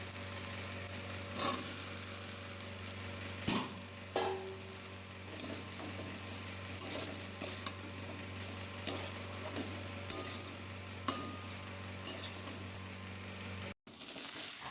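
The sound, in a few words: frying potatoes and jackfruit in spice paste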